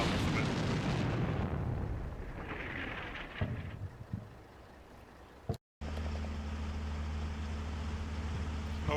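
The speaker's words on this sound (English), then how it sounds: "That's my heavy artillery. It will just fire relatively slowly in that area." Heavy artillery fires in the WWII strategy game Combat Mission Fire and Rubble, set in Poland in 1945: loud, rumbling blasts close together at first, fading into a steady low drone after a brief cut.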